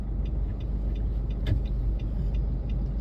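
Road traffic on the way to Cuenca, cars lined up in a long jam, giving a steady low engine rumble with a brief nearer vehicle swell midway; no talk.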